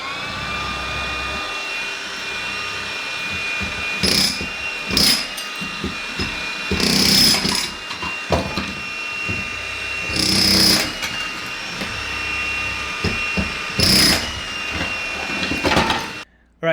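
A jackhammer breaking up kitchen floor tile pounds in repeated loud bursts, with sharp percussive impacts and a steady mechanical drone running underneath throughout.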